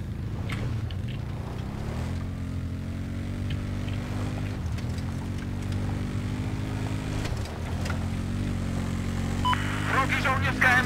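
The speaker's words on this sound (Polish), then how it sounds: "tu jeszcze motor jak jest. Ja z niego skorzystam." A motorcycle engine in the video game Battlefield 4 hums steadily and rises and falls in pitch as it revs, with gunfire and other game noise around it and a player talking over it.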